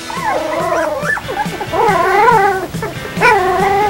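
Puppies yip and whine in high, wavering little cries, close and continuous, several voices overlapping.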